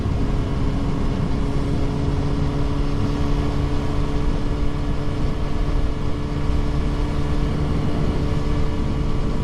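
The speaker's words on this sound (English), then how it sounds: "I was limited just to a little bit of engine noise." Steady, loud engine drone with constant road rumble from inside a moving car, unchanging throughout with no voices.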